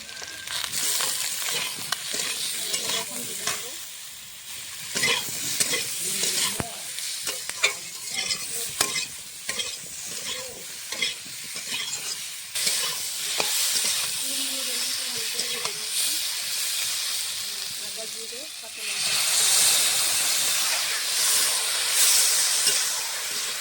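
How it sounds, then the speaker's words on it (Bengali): Radish and eggplant with spices stir-frying in a hot pan for a Bengali rohu fish curry, giving a steady close sizzle and hiss with scraping stirs throughout, and the frying rising louder near the end. "মশলার সঙ্গে সবজিটা কষিয়ে নেব মশলার সঙ্গে সবজিটা কষিয়ে নিয়ে একটু কিছুক্ষণ নেব"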